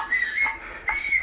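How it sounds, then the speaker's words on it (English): A protester at a UK anti-Trump demonstration blowing a plastic whistle: two shrill, steady blasts with a short gap between, fairly close and loud. "the sound coming out of this protester's pathetic plastic whistle"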